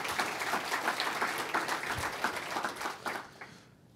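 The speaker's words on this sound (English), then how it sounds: "I want to give them a round of applause because they're great" Conference audience applauding a talk at BazelCon 2018, a dense, steady wash of many hands clapping that carries on for several seconds before tapering off toward the end.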